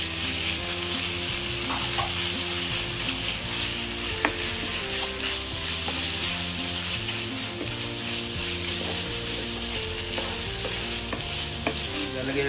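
Ground beef fries with garlic in a pan, giving a loud, constant sizzle and crackle with occasional stirring scrapes, and no talking.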